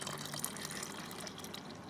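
Green tea streams steadily into a container with a soft, continuous liquid splash, faint and close, with no talking.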